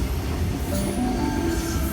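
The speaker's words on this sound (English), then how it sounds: "Got a Waterfall service arriving into platform number 2." A Sydney Trains Waterfall service pulls into Mortdale platform 2, a loud steady rumble of rolling carriages with faint wheel squeal riding over it, no voices.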